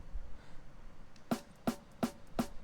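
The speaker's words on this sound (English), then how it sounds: "surprisingly the snare sounds good without my EQ" Four crisp snare drum hits in a mix, left without EQ, spaced evenly about a third of a second apart over a faint background, sharp and bright with quick decay.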